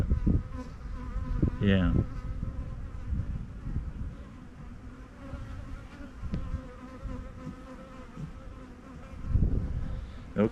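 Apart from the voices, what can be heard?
angry bees buzzing in a bee yard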